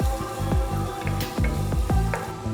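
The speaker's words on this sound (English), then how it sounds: "You keep frying it for about a minute or two till the onion is translucent in color." Onion frying in a pan, a steady close sizzle broken by regular scraping stirs about every half second, loud and alone with no talk.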